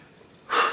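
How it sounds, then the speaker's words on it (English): Heavy breathing after playing a Nepalese shaman drum (dhyangro), a close, loud exhale or gasp that surges in abruptly after near-silence and slowly fades. "my breath was beginning to pump with it"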